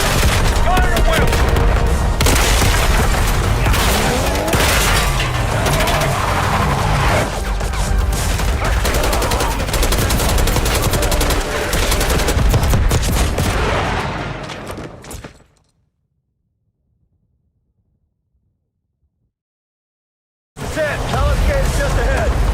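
Dense, loud gunfire from Call of Duty: Black Ops 6 during a campaign assault on a palace gate, with sustained bursts and explosions mixed with voices for about fifteen seconds before dropping to silence, then resuming abruptly.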